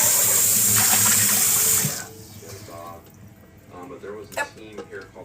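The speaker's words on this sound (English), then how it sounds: "Always rinse my pans." Tap water runs hard into a sink while pans are rinsed, a loud steady gush that stops after about two seconds, followed by quieter clinks and handling sounds, with a person talking throughout.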